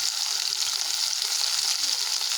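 Ginger fries in a pan, a dense continuous sizzle and crackle that stays loud and even from start to finish, with no voices.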